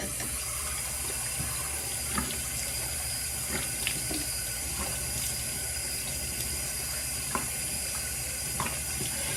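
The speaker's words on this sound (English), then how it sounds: "Now, we're gonna make sure we rinse really good" Tap water running steadily into a sink while a face is rinsed, a continuous close hiss with occasional small splashes, alone without speech.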